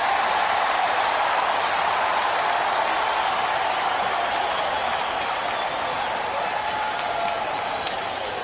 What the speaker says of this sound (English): I thought I heard applause and clapping